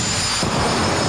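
A jet car with a Pratt & Whitney jet engine, a '93 Camaro body at a pro jet car championship, gives off a loud, steady broadband roar that swells sharply partway through and holds, with no talk.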